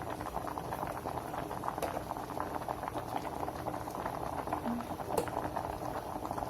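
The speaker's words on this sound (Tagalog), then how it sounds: "Guys, as you can see, kumukulo siya." Potatoes boiling in a pot of water give a steady, close bubbling and popping that runs unbroken and evenly loud throughout, with no talking.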